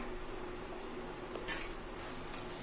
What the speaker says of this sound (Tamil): இப்போ லைட்டாக பொரிஞ்சு வருது தாளிப்பு